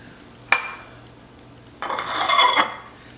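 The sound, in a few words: stirring mixed conkies ingredients in a bowl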